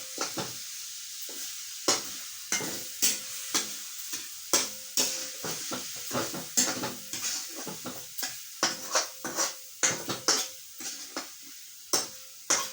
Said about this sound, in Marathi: आता मी हलवत आहे।